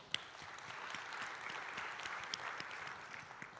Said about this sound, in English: So can we just give a round of applause for all of them?